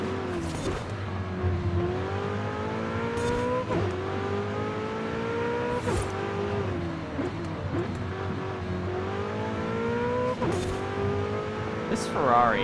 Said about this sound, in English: This Ferrari, I haven't commented on this. It sounds great, by the way. Just listen to that whine.